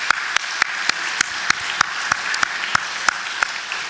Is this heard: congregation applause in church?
yes